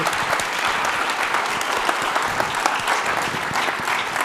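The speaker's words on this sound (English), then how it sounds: "I want to ask everyone to give another round of applause of thank you" An audience applauds in thanks for Jack, a Holocaust survivor, at a remembrance talk; the clapping is a dense, even wash from a large crowd, steady and loud from start to finish.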